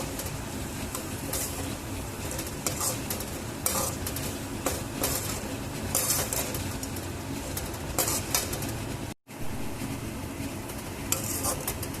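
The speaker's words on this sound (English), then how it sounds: "To the veggies I've added half teaspoon of turmeric powder and half teaspoon of salt, and I'm giving a nice stir to it" Vegetables seasoned with turmeric powder and salt are stirred in a pan for semolina upma, giving a steady close scrape and clatter of the spoon over a continuous sizzle, with no talking.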